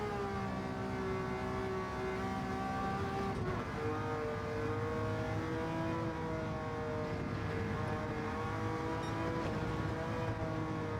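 A Ferrari P4 330 race car from 1967 Le Mans drones steadily at high revs throughout in Gran Turismo 7, engine harmonics sliding up and down slightly with gear and throttle changes, loud and continuous with no talk.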